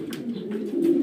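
Close pigeons coo steadily in a pigeon loft, the soft throaty calls overlapping in a continuous low warble with no talk.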